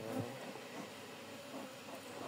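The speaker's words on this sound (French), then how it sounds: "les abeilles, elles s'envolent et elles vont directement sur la caméra" Honeybees from an aggressive hive flying toward the camera, a soft buzzing drone with brief louder passes as individual bees come close, faint and without talk.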